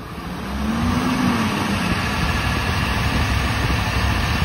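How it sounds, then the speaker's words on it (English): A Ford Powerstroke diesel pickup in four-wheel drive, held at about 1500 RPM, gives a loud, steady low rumble as the revs rise and then hold; no one speaks. "we're going to do four-wheel drive and we're going to stage it up to 1500 RPMs"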